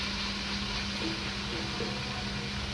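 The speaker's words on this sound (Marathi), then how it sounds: "टमॅटोही मी छान असा परतवून घेत आहे" A large tomato sautés in hot oil in a home kitchen pan, giving a steady, even sizzle that holds at a constant level close by with no voices over it.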